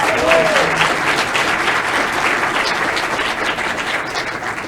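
Graduating audience at a university fall graduation ceremony breaks into steady, loud applause, a dense wash of many hands clapping continuously throughout.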